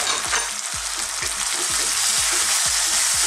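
Onions and tomatoes frying in a pan, a constant bright sizzle with a regular series of soft utensil scrapes and knocks about every third of a second, close and without speech.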